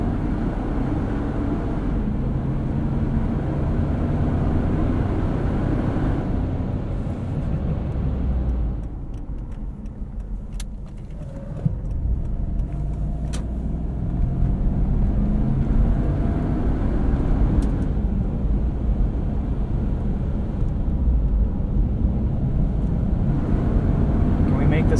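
A Toyota 4Runner bombing along back roads on slightly softer tires, giving a continuous low engine and road rumble inside the cabin with a brief dip midway, and a person talking over it.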